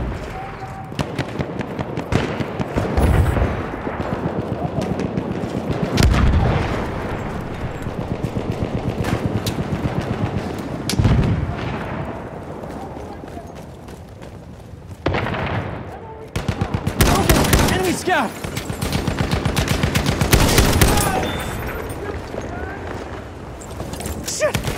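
Machine gun fire during a team deathmatch on the Amiens map in Battlefield 1: rapid bursts of automatic fire and scattered gunshots, some close and loud, mixed with explosions and battlefield ambience.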